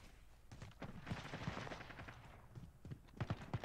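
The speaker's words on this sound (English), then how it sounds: "I'm not used to playing with marksman rifle." Sharp marksman rifle shots in Call of Duty Modern Warfare, a handful of quiet, distant cracks spaced irregularly, with a tighter cluster of reports near the end.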